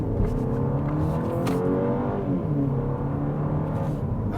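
A 2025 Mini Cooper Hardtop pulls away hard from a standstill, its engine note rising steadily and loudly with clear revving harmonics, close to the car and with no talk over it.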